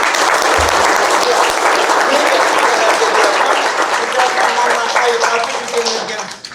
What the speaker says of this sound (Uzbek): Shu uchun kelinglar, onalarga qarsak chalaylik.